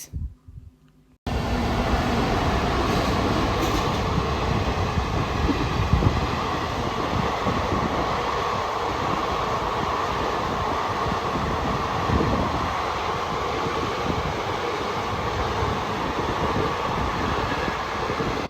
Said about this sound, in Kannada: ಓಕೆ, ಟ್ರೈನ್ ಹೋಯ್ತು